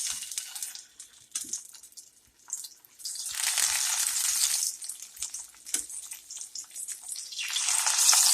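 Bitter gourds (karela) sizzle in hot mustard oil, a steady bright crackling hiss that swells and fades in long waves, with a brief quieter lull early on and no talking.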